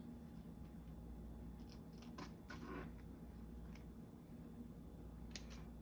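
Scissors cut through a paper napkin for a garden-themed collage, giving a few soft, close snips and crinkles over a steady low background hum.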